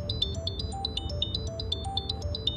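A mobile phone rings inside a moving car, playing a bright, repeating electronic melody of short chiming notes over a low road hum, with no talking.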